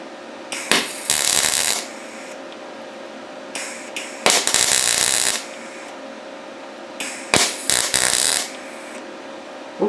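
A YesWelder DP200 welder firing in one-second pulses, three loud crackling, hissing bursts spaced a few seconds apart over a steady hum.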